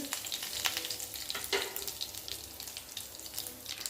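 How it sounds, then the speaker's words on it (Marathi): Cumin and mustard seeds crackle in hot oil, a quiet sizzle studded with sharp little pops and spits scattered irregularly across the whole stretch, with no talking. "तेल गरम झालेलं आहे थोडीशी जिरे आणि मोहरी टाकूया"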